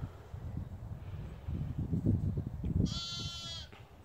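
A newborn lamb bleats outdoors, a short nasal cry near the end rising over low rustling and handling noise close by, with a few fainter calls earlier.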